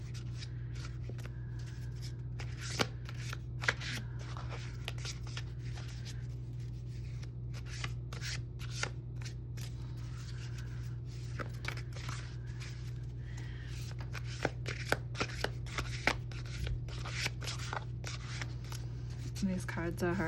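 New, stiff tarot cards being shuffled up close, a steady run of crisp riffling and sliding snaps with sharper clicks scattered throughout, over a constant low hum.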